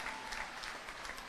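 A basketball crowd in an arena, at a FIBA Europe Cup game between Dinamo Sassari and Pallacanestro Varese, applauds a player, a faint, steady wash of clapping with no distinct individual claps.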